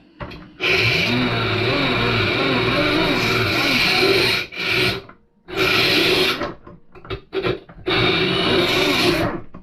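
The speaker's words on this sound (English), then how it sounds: "when the end of your Allen wrench starts to get wore out like that, what I usually do is I just come up here and grind a little bit of it off" Grinding the worn tip of an Allen wrench on a grinder: a loud, steady abrasive whine and rasp in sustained passes, broken by short pauses where the tool is lifted away, no talking.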